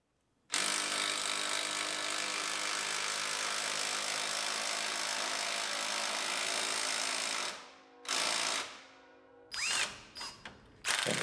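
Power tool tightening the bottom shock bolt on a rolled-over Silverado under repair, a loud continuous whirring burst lasting several seconds, then a few short choppy bursts and ratcheting stops at close range.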